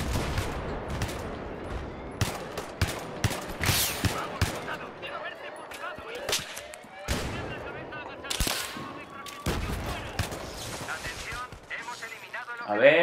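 Gunfire in Battlefield 3 on the Grand Bazaar map, with sniper and rifle shots in sharp irregular bursts and volleys, some near and loud, heard alongside someone talking.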